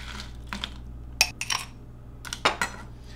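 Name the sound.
ice cubes dropped into a glass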